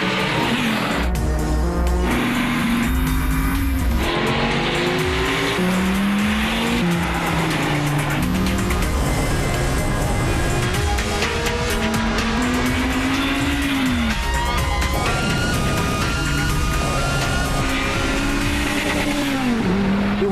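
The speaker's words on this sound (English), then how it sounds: "The Generation 5 Viper breaks the track record at the infamous Laguna Seca Raceway in California." A Generation 5 Dodge Viper supercar with a manual transmission laps Laguna Seca Raceway in California, its engine loud and close, rising and falling through repeated revs and gear changes, with tire squeal in the corners.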